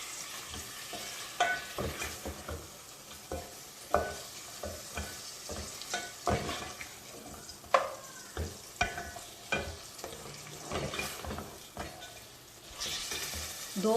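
Beef pieces browning in a pot for a stew, with a steady sizzle and repeated close scraping strokes of a spoon stirring the meat, no voices.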